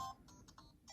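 A phone notification chime, faint and brief: a few quick tonal blips over quiet room noise.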